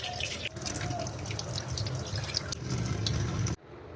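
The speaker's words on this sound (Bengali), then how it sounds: "চিকেনটা প্রথমে ধুয়ে নিই" Raw chicken rinsed under running tap water in a kitchen sink, a steady close splash and drip that fills the whole stretch before cutting off abruptly near the end.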